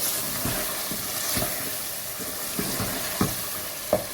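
Masala with yogurt for boneless chicken handi being stirred and fried in a pot over medium flame, a steady close sizzle with rhythmic scraping strokes of a spoon and a few louder knocks.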